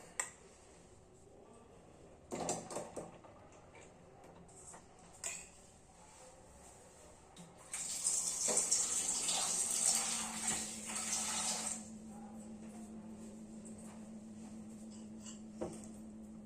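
Running tap water splashing for a few seconds in a sink while butter is rinsed, with scattered clinks of utensils and faint kitchen clatter before and after.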